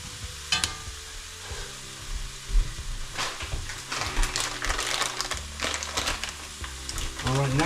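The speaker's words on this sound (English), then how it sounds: "Chop up those eggs. You just want to get them down, chopped up as small as you can." Scrambled eggs sizzle in a hot frying pan while a utensil chops and scrapes them, giving repeated close clicks and scraping strokes over a steady fry, with no talk.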